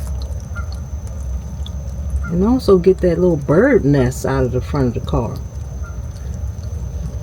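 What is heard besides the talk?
engine oil draining from a 2012 Thor Majestic RV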